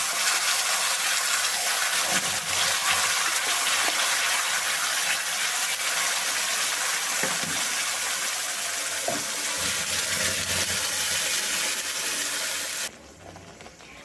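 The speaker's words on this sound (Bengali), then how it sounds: "তেল ভালো গরম হয়ে গেছে এখন আমি এর মধ্যে এই পেস্টটা দিয়ে দেবো" Mustard greens paste dropped into hot oil with fried black cumin, a steady loud hissing sizzle lasting throughout, with occasional soft knocks, cutting down abruptly near the end.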